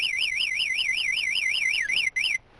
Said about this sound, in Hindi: न सिर्फ अलार्म बजने लगता है